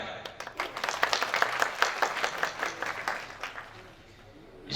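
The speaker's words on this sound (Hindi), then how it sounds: "भरपूर एक दूसरे के वेलकम के लिए तालियां बजाएं।" Audience clapping at a swearing-in ceremony for a traders' association in Shorkot City, Pakistan, a steady wash of many hands fading out toward the end, with no talk over it.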